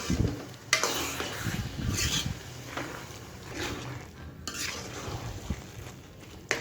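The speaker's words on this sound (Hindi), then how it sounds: "अब घी को अच्छे से मिक्स करेंगे" Ghee is mixed into grated carrot gajar halwa in a pan, with repeated scraping strokes of a spoon against metal over a low sizzle, close and moderately quiet.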